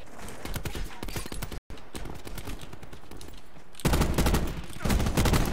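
Rapid gunfire bursts from a regular gun in Call of Duty Black Ops 4, fired in quick succession during a multiplayer match, loud and close, with a brief dropout before a heavier, denser burst near the end.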